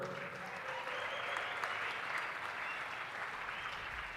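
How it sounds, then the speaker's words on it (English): An audience at a business conference claps in sustained, even applause that holds steady from start to finish, moderately loud with no voices rising above it. "Let's give a big round of applause for Coach Micheal Burt."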